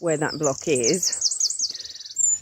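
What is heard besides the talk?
bird chirping noisily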